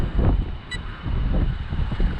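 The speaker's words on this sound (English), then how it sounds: "It is windy" Gusty wind buffets outdoors at an RC car speed run, a steady low rumble of microphone wind noise swelling and easing throughout with no voices.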